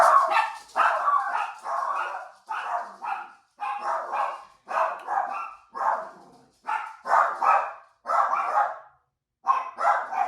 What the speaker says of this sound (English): we have dog babies. This is what they do.